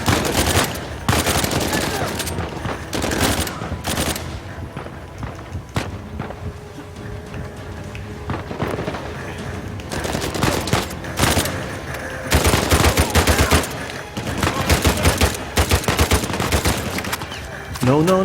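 Dense volleys of enemy gunfire in Uncharted 4, with rapid automatic bursts and single shots crackling loud and close over a steady game soundscape, rising in intensity toward the end.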